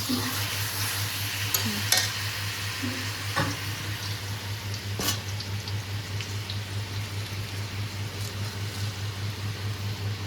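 Onions frying in a pan in a home kitchen, a continuous close hiss and crackle like light rain with occasional sharp clinks of stirring early on, steady and moderately loud with a low electrical hum beneath.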